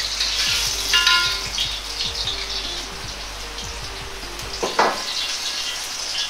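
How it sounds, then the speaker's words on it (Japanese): Napa cabbage stems stir-frying in rendered bacon fat, a continuous close sizzle with soft crackles and occasional stirring clatter against the pan. "この油を使って白菜の芯の部分を炒めていきます。"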